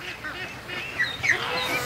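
Ducklings from a hatch of duck and goose eggs, rushing toward a lake in the morning, give off a few soft, thin quacks and peeps, close by, against an outdoor background hum.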